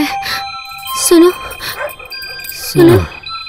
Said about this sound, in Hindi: लगता है कोई पागल कुत्ता भौंक रहा है।